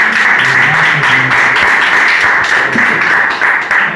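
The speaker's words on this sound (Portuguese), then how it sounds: "Vamos dar uma salva de palmas para o Senhor" A church congregation at a Pentecostal evangelical service applauds, sustained dense clapping filling the room at steady loudness for several seconds, with faint voices mixed under the applause.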